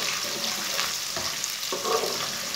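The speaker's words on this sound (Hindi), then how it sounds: "1 बारीक कटा हुआ प्याज डाल लेंगे। प्याज को हल्का सा ब्राउन कर लेंगे।" Chopped onion sizzles in hot oil with whole cumin and coriander seeds, a steady close frying hiss with small bursts of crackle and a brief stir partway through.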